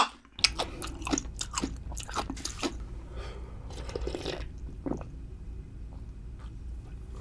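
Close-up crunching bites of pickled radish in a Korean mukbang with tteokbokki, fried snacks and rice balls: several crisp bites in quick succession, then quieter moist chewing.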